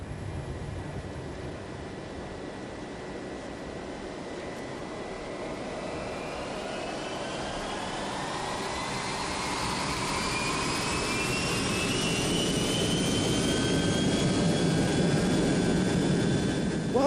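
Airplane engines drone during a night flight, a heavy, continuous jet roar heard from inside the aircraft, with rising and falling whining tones and a hum that swells slightly louder toward the end.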